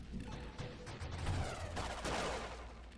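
Rapid weapon fire in Spelunky 2 crackles in a dense, continuous stream for a few seconds, mixed with small bursts and impacts at a steady moderate level.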